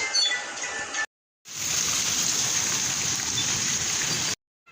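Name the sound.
heavy rain falling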